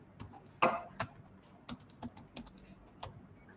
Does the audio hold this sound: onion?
no